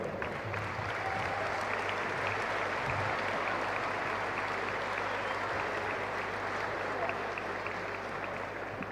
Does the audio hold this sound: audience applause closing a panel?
yes